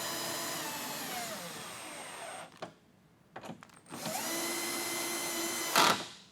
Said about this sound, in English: I have my electric screwdriver clutched out very, very lightly, so I'm not going to strip these